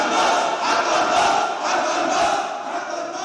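A large crowd at a memorial shouts together in a loud, continuous roar, their voices rising and falling in unison like chanted slogans.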